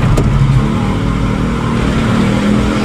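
Vehicles crawl in slow, heavy traffic behind loaded trucks on a road toward Jampang via Lengkong, with a close, steady engine drone and low rumble that never lets up.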